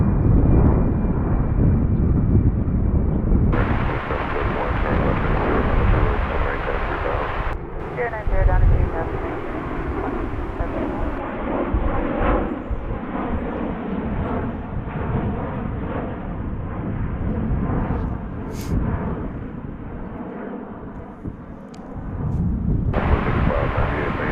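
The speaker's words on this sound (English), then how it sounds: "Another A321 departing to Las Vegas." An Airbus A321 departing DFW airport for Las Vegas gives a loud, steady jet roar that swells and holds for over twenty seconds, with someone talking on top of it.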